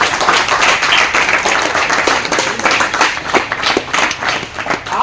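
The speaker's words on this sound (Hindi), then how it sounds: "आपकी तालियां वैसी नहीं बज रही जैसे किसी मंच में ज्वाइंट विनर टीम बैठी हो" A crowd applauds at the prize ceremony of a memorial cricket tournament final, dense sustained clapping from many hands, loud and close, lasting the whole stretch.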